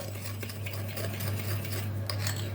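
A utensil scrapes and clinks around a bowl in steady stirring strokes, mixing water into thick dish soap to make a paste for cleaning cutlery, close by, over a low constant hum.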